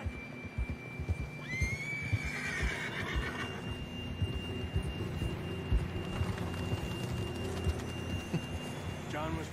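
A horse neighs in Red Dead Redemption 2, a rising whinny sounding twice over a steady outdoor game ambience with faint hoof and movement noises, heard moderately close and fairly quiet.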